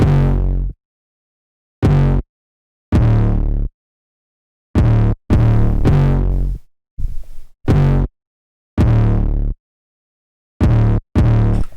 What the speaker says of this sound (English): This is the 808. This is pretty fast distortion on it.